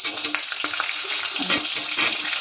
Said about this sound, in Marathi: आता हे सर्व मंदाचेवर भाजून घ्यायचं